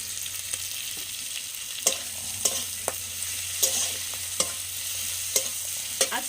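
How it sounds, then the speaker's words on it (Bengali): Shrimp fry in hot oil in a pan with a steady, close sizzle, broken by several sharp clicks and scrapes as the pieces are stirred. "চিংড়ি মাছগুলো একটু ভাজা ভাজা হয়ে গেছে, চিংড়ি মাছগুলো একটু লাল লাল হয়ে গেছে"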